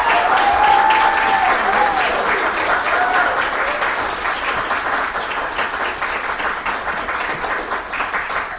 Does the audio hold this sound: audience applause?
yes